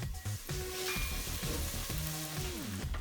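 Garlic and carrots sautéing in a pan for a vegan cabbage soup, with a steady close sizzle and frying hiss running through the whole stretch and some tonal kitchen noise layered over it.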